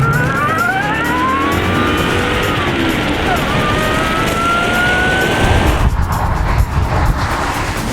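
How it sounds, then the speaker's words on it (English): A Holden Club Sport with a supercharged 6-litre LS2 V8 drives fast, a loud continuous engine roar with rising and falling revs through gear changes, close and steady throughout. "Its supercharged 6-litre V8 engine creates a mammoth 380 kilowatts of power and a stump-pulling 680 newton metres of torque"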